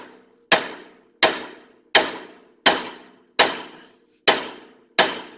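Seven sharp metallic hammer blows on a car brake part at a steady, even pace, each ringing briefly before the next strike, close and fairly loud.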